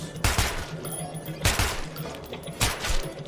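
Gunfire in the video game Metro 2033: three loud bursts of rapid shots, each lasting under a second, separated by short pauses filled with echoing reverberation.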